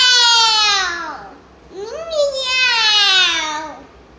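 A young child imitates a cat, giving two loud, drawn-out meows in a high, wavering voice, the second rising then falling, close to the listener.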